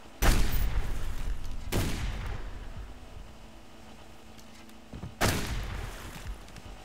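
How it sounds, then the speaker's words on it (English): Gunfire in the survival video game Subsistence: three sharp, loud shots or bursts spaced a couple of seconds apart, each with a booming decay, over a steady ambient background. "What are you shooting at?"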